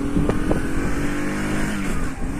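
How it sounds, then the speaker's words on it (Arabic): Sania X1000 car engine running while driving, a car with a fault that makes it cut out and restart; a steady, close, loud mechanical rumble continues without pause. "حنا ديمارينا الموتور دابا وغندخلو لشي حفاري وغادي نشوفو واش غيطفى ولا ما يطفاش"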